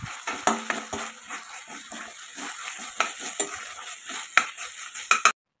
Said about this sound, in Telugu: ఫ్రై అయ్యాక జింజర్ గార్లిక్ పేస్ట్ యాడ్ చేసుకుని మరొక 5 మినిట్స్ ఫ్రై చేసుకోవాలి